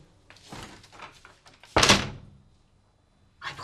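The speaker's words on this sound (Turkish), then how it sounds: "şimdi bu kapıyı tekrar kapatıyorum" A door is pushed shut indoors, giving one loud, close thud after some quieter handling and rustling, then near silence, with another brief noise at the end.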